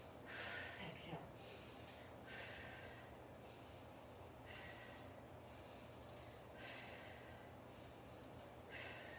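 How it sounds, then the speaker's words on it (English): Heavy rhythmic breathing during hammer curls and overhead presses, with loud, close, forceful exhales and inhales repeating in regular bursts over a steady background hum. "So you kind of hear my breathing pattern."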